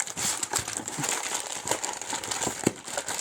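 Crinkling and rustling of packaging as a boxed cable stripping tool is unwrapped, with irregular crackles and handling noises close by and no talk.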